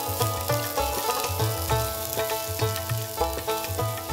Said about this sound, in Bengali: গরম তেলে দেয়া হচ্ছে কাঁচামরিচের ফালি আর কুচি করা পেঁয়াজ।